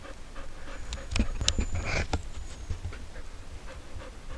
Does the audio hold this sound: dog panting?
yes